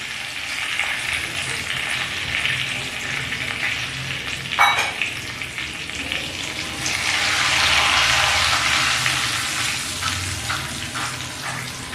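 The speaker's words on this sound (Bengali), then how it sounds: "ওই তেলেই ফোড়নে দিয়ে দিচ্ছি 2টো তেজপাতা, 1 চা চামচ গোটা জিরে" Two bay leaves and a teaspoon of whole cumin seeds crackle in hot oil, a steady close sizzle with a brief clatter partway through. The hiss swells louder toward the end.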